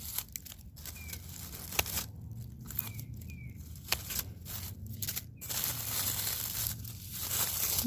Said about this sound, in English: All the leaves just easily come away.